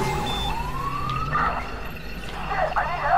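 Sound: police car siren in a video game

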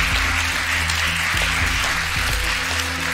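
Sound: applause

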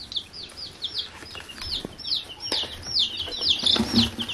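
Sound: young chicks peeping

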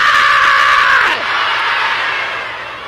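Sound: church crowd screaming

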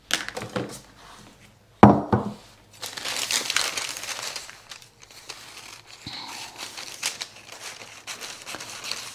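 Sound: cutting out a sleeve piece for a coat

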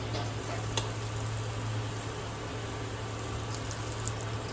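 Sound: frying small dumpling balls in hot oil

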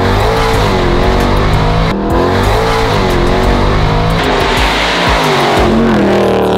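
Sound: Jeep Trackhawk engine revving

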